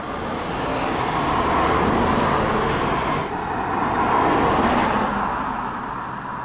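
Motor traffic passing a cyclist on a road, two swelling whooshes as cars approach and go by close at hand, fairly loud, with a brief dip between them and no speech.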